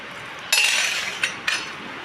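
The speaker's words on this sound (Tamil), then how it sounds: "எல்லாருக்கும் தட்டில் போட்டுக்கலாம். சிக்கன் குழம்பு ஊற்றிக்கலாம்." Plates and dishes clink three times in quick succession while chicken curry is served, crisp and close, with no speech.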